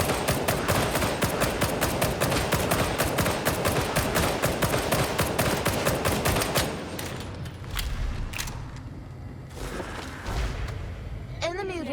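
Dense, rapid gunfire from Warhammer 40,000: Darktide, with sustained automatic bursts filling the first several seconds, then scattered individual shots and impacts over quieter game ambience.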